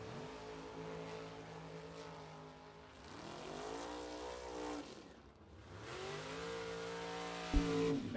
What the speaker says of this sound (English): Ed Nemec, left lane, 533 in the Corvette. Right lane, it is Andrew DiPiazza in the Camaro Roadster